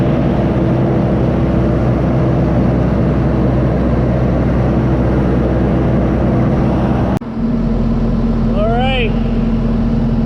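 A tractor pulling a five-shank Glencoe chisel plow through ground hums with a steady, loud engine drone, broken by a brief cut partway, then continuing with a faint high chirp over it.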